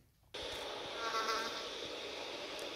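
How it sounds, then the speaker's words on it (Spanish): A fly buzzing in the video game War After, a faint, continuous insect drone that starts abruptly and hovers steadily on its own. "se escucha hasta una mosca,"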